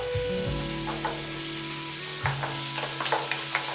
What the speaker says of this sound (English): I add in the onion and I saute